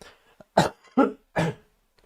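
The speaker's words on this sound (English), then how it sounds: "Yeah, I'm going to cough." Three distinct, close coughs in quick succession, each a short harsh burst followed by quiet.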